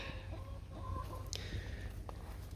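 Seven hens cluck softly in a small backyard coop converted from a playhouse, scattered short calls at a distance over a steady low background hum.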